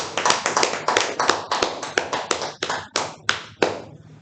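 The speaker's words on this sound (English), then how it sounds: "A huge round of applause to Toastmaster." Clapping for the Toastmaster at a Toastmasters club meeting: a small group of hands applauding in distinct, fairly sparse claps that thin out toward the end, close and clear.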